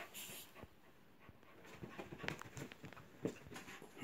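A dog pants quickly and softly close by, with faint rustles and light pattering around it.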